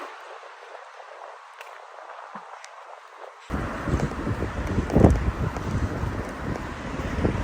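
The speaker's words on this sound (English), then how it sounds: "it's a bit windy" Wind gusts roar against the microphone on a street in Ilford, London, starting quieter and then surging into a loud, broadband rush that persists, with a stronger buffet midway.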